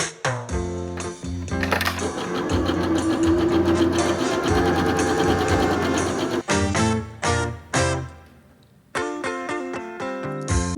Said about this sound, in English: I'll just start by sewing all parts together, except the puffy ones.